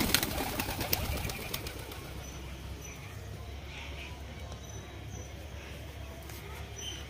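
Pigeons coo softly amid a busy outdoor background, with some rustling and faint activity nearby.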